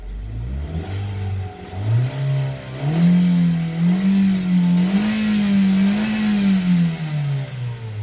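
A used Hyundai Avante's engine, with 154,000 km and an automatic transmission, revs up and holds a rising, wavering drone, then eases back down, close and loud with no voices.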